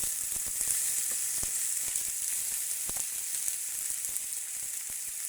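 Onions and chili paste fry in a pan with a steady, dense sizzle that holds even throughout, broken by a few faint clicks of a utensil; close and continuous, with no voices.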